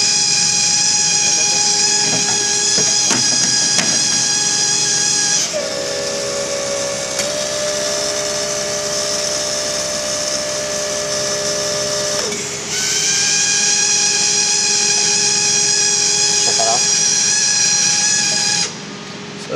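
Fuel injectors for a BMW M3 turbo system pulsing on a test bench, a steady close mechanical buzzing hiss with strong tonal whine that shifts pitch midway and continues without speech.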